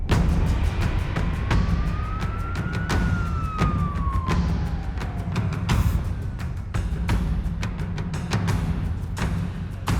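A wailing emergency siren sweeps up and down over steady traffic rumble, with sharp clicks and knocks punctuating the continuous loud background.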